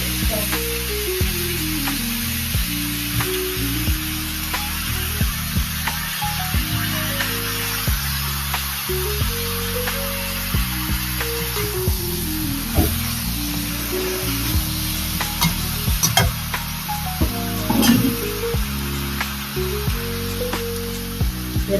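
Onions and vegetables sauté in a pan with a steady, close sizzle that runs throughout, under a repeating tonal background pattern.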